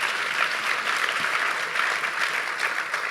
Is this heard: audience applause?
yes